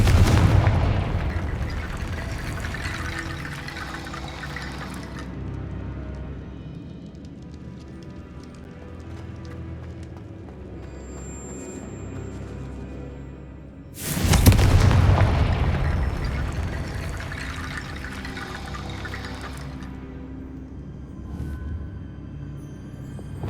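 Two loud booming blasts from the Confringo fire spell in Hogwarts Legacy, one at the start and one about fourteen seconds in, each decaying into a long rumbling tail over quiet game ambience.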